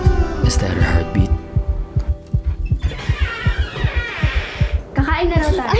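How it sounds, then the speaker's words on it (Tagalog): Steady thumping heartbeat effect, a regular low pulse repeating about twice a second throughout, loud and close, with a brief higher musical or vocal sweep near the end. "Is that her heartbeat?"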